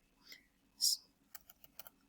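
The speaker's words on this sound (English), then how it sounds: "I could just double click here and start typing certificate" Typing on a computer keyboard, a few quick key clicks and a short burst of keystrokes, close and fairly crisp in a quiet room.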